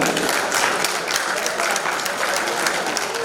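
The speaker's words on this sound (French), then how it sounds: "des applaudissements pour Monsieur Dan" Dense, steady applause from a wedding reception crowd welcoming a guest, loud and continuous throughout with no break.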